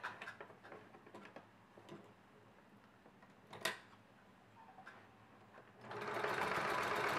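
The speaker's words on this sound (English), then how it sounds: "And you're sewing along, just on the binding, along the edge." A sewing machine stitches binding onto a knit top, a faint close whir with soft ticking, then louder, steady running near the end; no one speaks.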